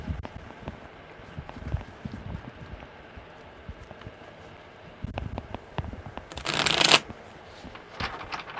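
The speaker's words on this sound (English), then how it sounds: "one more good shuffle" Playing cards riffled and shuffled up close, soft ruffling bursts with a louder crisp riffle near the end, no talking.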